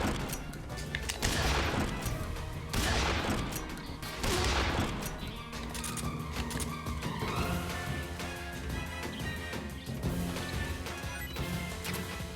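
Gunfire in Metal Gear Solid 3: Snake Eater, including AK rifle shots, comes as repeated loud bursts and crashes over a dense, busy game soundtrack.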